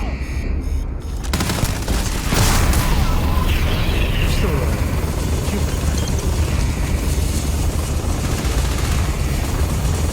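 Dense gunfire erupts in a Starfield combat scene, rapid bursts and booms layered continuously and loudly after a brief quieter opening, with a voice talking over the shooting.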